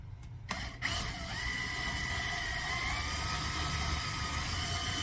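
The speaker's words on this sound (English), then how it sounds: "the thing to do here, right, is to drill a hole that is bigger than the hole that was originally there" A drill boring a 3/8-inch dowel hole into the body of a mid-1980s Aria Pro II guitar, a steady whirring motor drone after a couple of sharp clicks at the start, with a faint rising whine partway through.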